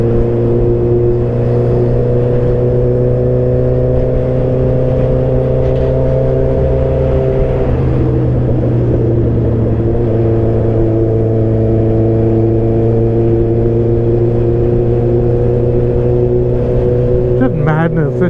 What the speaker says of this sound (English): there's just so much traffic on this road, like all the time